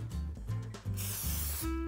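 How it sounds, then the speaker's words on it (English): Vegetable oil cooking spray spritzed onto tortillas in a kitchen, a series of short close hissing bursts with brief gaps, ending in a longer continuous spray. "I'm gonna spritz them with some vegetable oil spray so that our cinnamon sugar mixture sticks."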